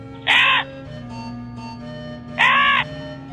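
A crow gives two loud, harsh caws about two seconds apart, heard close over a steady background hum.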